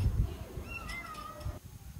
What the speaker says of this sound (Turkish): Yaklaşık 15 metre yükseklikteki yavru kedi kurtarıldı.